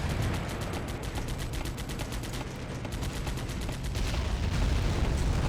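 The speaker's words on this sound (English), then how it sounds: "you can just hear it pumping away with the grenades" A BMP's grenade launcher in a Russian-invasion-of-Germany war game fires repeatedly, a dense, steady run of rapid thumping reports that carries on without pause throughout, loud and close.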